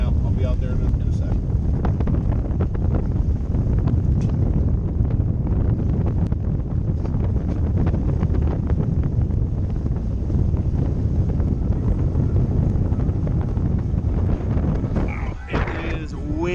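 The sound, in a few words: strong wind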